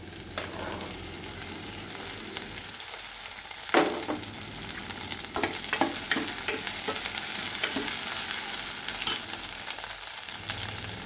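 Cut okra sizzles in a pan with onion and curry leaves, a steady close hiss of frying broken by scraping stirs and sharp clicks of the spoon against the pan, with no voices.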